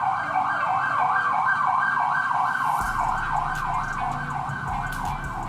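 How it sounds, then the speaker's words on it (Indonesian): A loud wailing fire truck siren cycles up and down continuously, with traffic rumble underneath as the truck goes by close at hand. "Nah ini ada mobil pemadam kebakaran lewat, jadi mungkin suaranya rada tenggelam."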